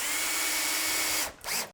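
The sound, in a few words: power drill driving 30mm screws into log cabin wood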